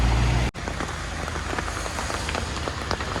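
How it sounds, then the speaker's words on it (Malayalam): Heavy rain pours steadily on a forest road near Munnar, a dense continuous hiss of drops drumming on a surface, close and loud throughout after a brief cut near the start. "നല്ല മഴയാണ്"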